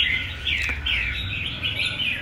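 A pet songbird sings continuously in a phone recording, a bright, wavering chirping warble close to the mic over a low background rumble.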